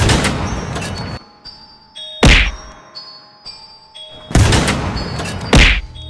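A cartoon tank fires at two monsters. The shots come as several loud, sharp booming impacts spaced a second or two apart, with ringing tones and quieter clatter between them.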